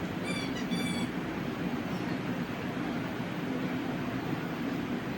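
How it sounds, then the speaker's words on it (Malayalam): A train passing near the Guruvayur line, a steady loud rumble of wheels and carriages with a brief high squeal near the start, no voices. "ആ പോകുന്ന ട്രെയിൻ ഏതാണെന്ന് നിങ്ങൾക്ക് പറയാൻ പറ്റുമോ ആർക്കെങ്കിലും?"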